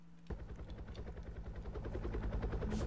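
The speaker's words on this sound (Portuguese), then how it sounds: "Vamos tentar colocar dentro do nosso helicóptero." Helicopter in a Roblox zombie-survival base game: after a brief quiet start, a rotor starts up with a rapid steady chop and engine hum, fairly quiet overall, with no one speaking.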